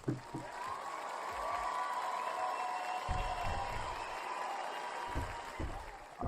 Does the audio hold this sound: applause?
yes